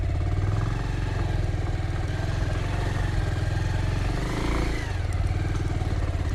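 A Bajaj Pulsar motorcycle rides over a rough road: a loud, close, steady engine rumble with clattering and rattling from the bumpy surface, and a brief shift in tone near the end.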